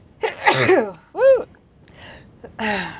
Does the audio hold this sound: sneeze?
yes